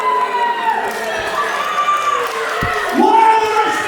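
Clapping and murmuring from an audience at a debate match, with raised voices and shouts overlapping the applause, which swells slightly toward the end.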